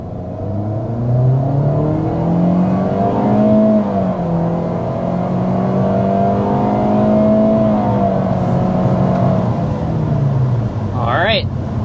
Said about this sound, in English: first we need to start with a hard acceleration